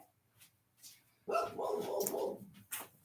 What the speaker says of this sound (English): I heard something fall or something and they started barking.